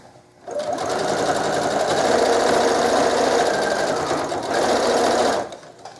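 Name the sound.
sewing machine stitching a scarf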